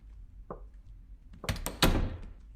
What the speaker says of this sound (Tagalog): Saan nagaling yung katok na yun?